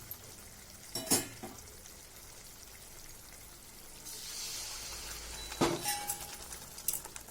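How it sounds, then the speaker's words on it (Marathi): Hot water is poured into a hot pan of misal curry with a brief sizzle and hiss, framed by a few clinks of a utensil against metal. "आपण आता हिच्यामध्ये आपण पाणी घालू गरम पाणी घालायचं हिच्यामध्ये"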